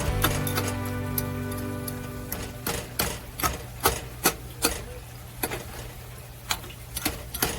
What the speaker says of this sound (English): We just want to break that apart a little bit using a fork